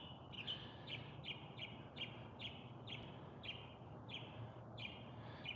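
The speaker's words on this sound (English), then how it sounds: "I'm sure can hear that bird. It's like talking to everybody." A bird sings outdoors in a steady repeating pattern, giving a short call roughly every half second to second over a constant low background hum, fairly clear and moderately near, with no talking.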